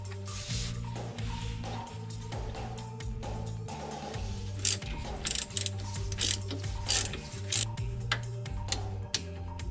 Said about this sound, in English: Put the nut on here and torque this to 44 foot-pounds